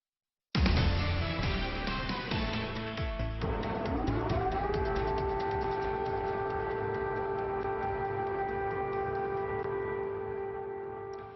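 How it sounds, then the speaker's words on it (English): Air raid sirens wail over Kyiv as heard from inside an apartment building, starting abruptly, with a long, steady rising and sustained tone that carries on loud and unbroken to the end. "That is the sound of sirens ringing out early this morning, recorded from inside an apartment building in Kyiv."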